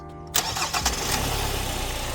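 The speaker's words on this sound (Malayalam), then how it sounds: "നമുക്ക് ഇതിൻ്റെ വൈബ്രേഷൻസ് എത്രമാത്രം ഉണ്ടെന്നുള്ളതൊന്ന് സ്റ്റാർട്ട് ചെയ്ത് നോക്കാം" A Kia Sonet's 1.5 CRDi diesel engine cranks briefly, catches and settles into a smooth, steady idle, heard close and loud with no talk.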